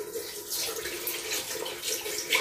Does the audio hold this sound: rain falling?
no